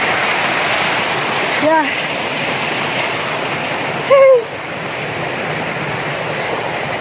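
Water pours from a waterfall along a hiking trail in a continuous broad rushing roar, loud and steady, while someone briefly speaks twice over it.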